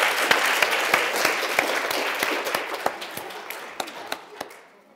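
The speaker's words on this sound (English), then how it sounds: "Can we have a little round of applause?" At a live science show, a crowd's round of applause fades over a few seconds. A few sharp individual claps stand out near the microphone before the clapping dies away.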